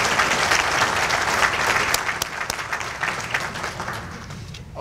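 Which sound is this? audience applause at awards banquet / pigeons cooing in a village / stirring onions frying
audience applause at awards banquet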